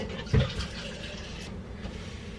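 Water is poured into a glass in a short gurgling burst, followed by quieter trickling and faint handling noises, close and alone.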